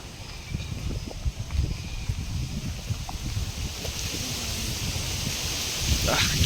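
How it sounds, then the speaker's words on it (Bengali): Wind gusts steadily across the open shore of a lake in Bangalore, rumbling into the microphone with a constant breathy roar and faint background noise. "কি সুন্দর হাওয়া"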